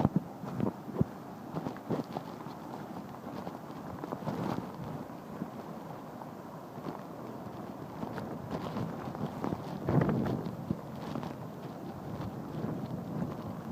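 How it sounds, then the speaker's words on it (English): Gusting wind buffets the microphone on a mountain trail in Japan as a typhoon approaches, a steady broadband rush with louder surges and a few thumping footsteps or knocks, no talking. "The wind's definitely picking up."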